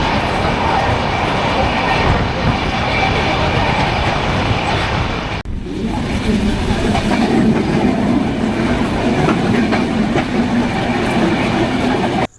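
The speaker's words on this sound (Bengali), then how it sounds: "আমাদের ট্রেনটি হচ্ছে দ্রুতযান এক্সপ্রেস।" Drutojan Express passenger train running on the Dhaka to Panchagarh route, heard from on board as a loud, continuous rumble with rhythmic wheel clatter, briefly dipping midway before the roar resumes.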